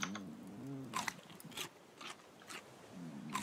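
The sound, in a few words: eating food in the Raft video game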